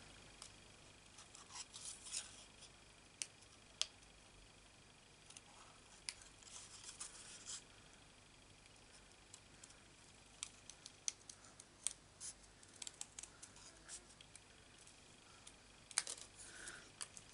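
Quiet, close scissors snipping through cardstock in irregular clusters of crisp cuts, with soft paper rustling between them and no talking.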